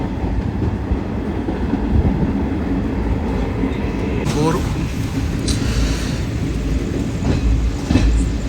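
Interior of a moving train at night near Kurnool, with a steady low rumble of running carriages and faint occasional clicks of wheels over rail joints throughout.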